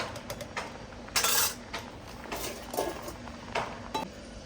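Cooked rice being drained from a pot on a wood-fired stove, with metallic clinks and scrapes of the pot and lid scattered through, a louder rattle near the middle and several sharp knocks, fairly close.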